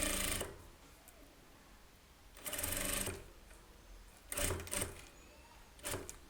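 A tailor's sewing machine stitches blouse lining pieces together in short bursts, four close whirring runs separated by quiet pauses, with no talk over it.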